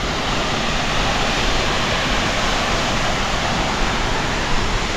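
Aw-Asen Falls in Ilocos Sur roars as a dense, constant broadband rush of falling water, loud and close, with no pause or change in intensity throughout.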